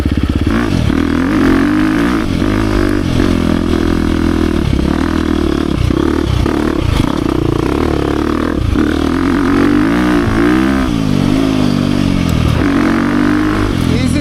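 A 2023 KTM 350 XC-F Factory Edition four-stroke dirt bike rides on trails, its engine droning steadily and close with repeated rises and dips in revs, plus occasional clatter and scrapes over the continuous motor noise.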